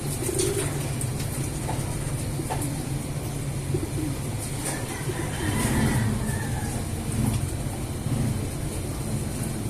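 Pigeons or doves cooing repeatedly amid other bird calls, with a steady background rumble of distant traffic.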